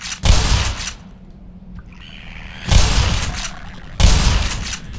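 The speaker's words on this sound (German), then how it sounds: "Ich verschwende gerade meine Munition." Heavy gunfire bursts in the video game Black Mesa, three loud booming volleys cut off abruptly, with a brief quiet gap and faint mechanical tones between the first and second.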